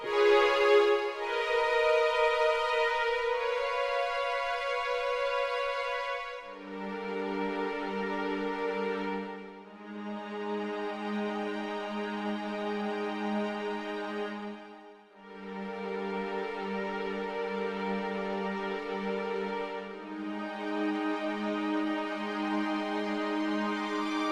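Lush sustained string-synth pads from a preset recreating Resident Evil Remake (2002) music, playing slow chord changes with swells every few seconds, full and smooth with no voices.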